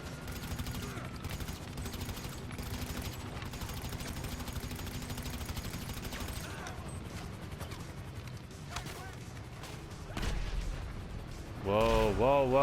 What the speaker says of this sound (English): we have a tank, guys, we have a tank in the area